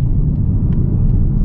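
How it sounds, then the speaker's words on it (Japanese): A Mazda MX-30 R-EV accelerates to merge onto a highway, heard from inside the cabin as a steady low rumble of road and drivetrain noise, with no voices. "はい、合流加速。"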